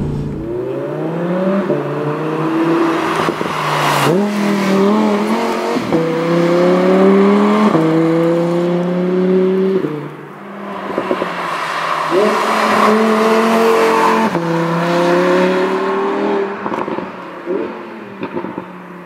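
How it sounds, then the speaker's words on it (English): An Audi R8 V10 rises through repeated rising revs toward high RPM, loud and close from inside the car, with gear changes between pulls and brief tire noise. "With these V10s, once you bring them out a little bit higher in the RPM range, they start to pull."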